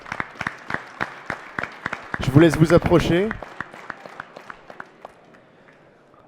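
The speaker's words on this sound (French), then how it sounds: "Sous vos applaudissements, mesdames et messieurs" An audience gives scattered, rhythmic applause for trophy winners at an industry business awards ceremony in Reims, and a voice speaks briefly over the clapping midway.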